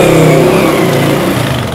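A motorbike engine revs loud and close in a brief, buzzing burst with a throbbing low pulse that slowly eases off.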